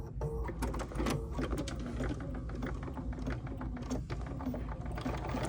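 A Bernina embroidery machine in a small clamp hoop stitches at a steady fast rhythm, a close, continuous mechanical chatter of needle strokes and a low motor hum with no talking.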